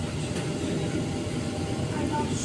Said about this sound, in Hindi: धीरे धीरे मेट्रो देखिए अंडरग्राउंड जा रहा है।